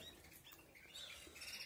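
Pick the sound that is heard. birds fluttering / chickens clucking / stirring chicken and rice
birds fluttering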